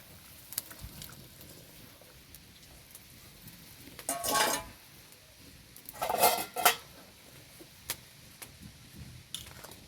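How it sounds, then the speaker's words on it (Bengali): Potatoes tipped into a pot of simmering rohu fish curry give two short clattering bursts of splashing and utensil knocks over a quiet background. "এখন আমি দিয়ে দেবো আলুগুলো"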